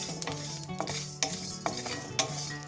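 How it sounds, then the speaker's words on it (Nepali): Whole spices — four cloves, two pieces of cinnamon, mace, five peppercorns and a cardamom — frying in a hot wok on low flame, with soft sizzling and several sharp ladle scrapes and taps against the metal, close by. "4वटा ल्वाङ, 2 पिस दालचिनी, 4 ग्राम जावित्री, 5वटा मरिच र एउटा अलैँचीलाई लो फ्लेममा 30 सेकेन्डसम्म एउटा कराईमा फ्राई गर्दैछु"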